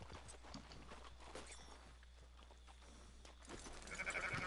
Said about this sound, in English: So it's sheep, not ram.